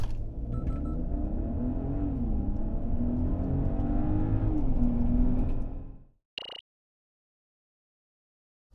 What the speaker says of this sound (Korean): 자, 잠시 발진 가속 성능 볼까요?